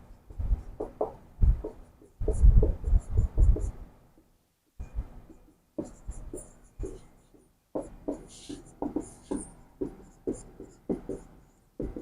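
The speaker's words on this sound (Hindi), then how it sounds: "इसमें लिखेंगे शंकराचार्य जी ने" Writing on a board during a classroom lesson: irregular bursts of scratchy, close strokes in short groups with brief pauses between them, and no voice.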